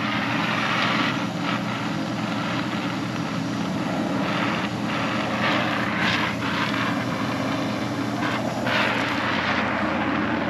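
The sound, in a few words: low-flying aircraft, probably Coast Guard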